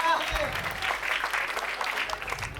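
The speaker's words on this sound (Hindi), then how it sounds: "ताली बजाइए।" Audience applause at a Hindi Kavi Sammelan poetry recital, a steady wash of many hands clapping together, dense and fairly loud throughout, with some voices mixed in underneath.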